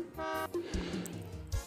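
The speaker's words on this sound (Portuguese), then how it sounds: "ele dá uma buzinadinha agora quando você seleciona" A short truck horn beep sounds once in The Road Driver truck game when a DAF truck is selected, followed by low, faint engine and menu sounds.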